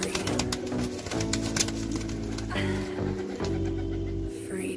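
Female racer pigeons coo repeatedly nearby in low, throaty phrases, a few overlapping calls rising and falling over a soft background, with faint voices now and then.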